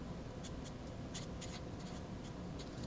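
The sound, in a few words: writing out a math equation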